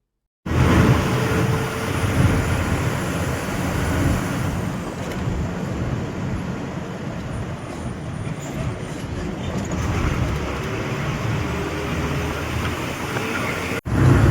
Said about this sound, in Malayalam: അതിനുശേഷം പിന്നെ ദേ ഈ ബസ്സിൽ കയറിയിട്ട് ഇങ്ങനെ പോയിക്കൊണ്ടിരിക്കുക.